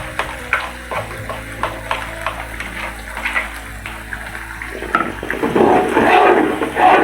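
Green chilies and bird's eye chilies sizzling as they sauté in a pan, a crackling hiss with scattered pops and scraping stirs that grows louder and denser in the last couple of seconds.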